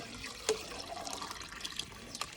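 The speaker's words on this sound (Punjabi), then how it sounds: "ਉਹਨਾਂ ਨੂੰ ਪਾਣੀ ਧਰ ਦਈਏ ਦੁਬਾਰੇ ਭਰ ਕੇ" Water is poured to refill a pigeons' water dish, a faint close trickling and dribbling with a small splash, no talking.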